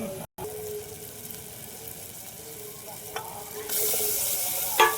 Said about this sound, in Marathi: अंडे आता भाजीत टाकून घेऊ